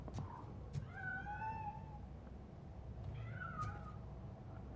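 A cat in the video game Robocop Rogue City meows twice with drawn-out, rising and falling cries, fairly close and clear over a low ambient game hum.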